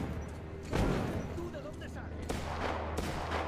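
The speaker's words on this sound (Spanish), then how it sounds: "ya se están pegando a tiros" Rapid bursts of gunfire in Metro Exodus crackle over a dense, noisy battle soundscape, with louder volleys near the start and again toward the end.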